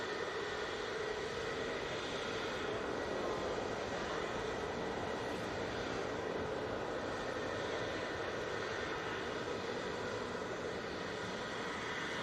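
A Pegasus airliner arrives from Istanbul at Manchester Airport, heard as a steady, broad roar of jet noise that holds evenly throughout with no talk.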